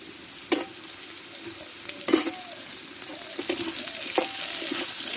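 Ridge gourd hitting hot oil in a pan for a shrimp and Malabar spinach dish, a close continuous sizzle with a few sharp stirring knocks and scrapes, no voices.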